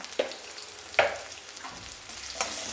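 Onions sautéing with salt in a pan, a soft steady sizzle punctuated by a few brief scraping stirs.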